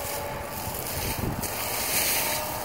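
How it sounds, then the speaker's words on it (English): Loud, constant wind buffeting a microphone outdoors during a metal-detecting treasure hunt, a dense rumbling roar throughout with brief gustier swells. "I'm trying to block the wind."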